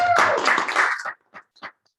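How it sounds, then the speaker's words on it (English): Small team-meeting audience giving a round of applause, a short burst of clapping that fades out quickly into a few scattered final claps, moderately near. "Give them a round of applause for showing up."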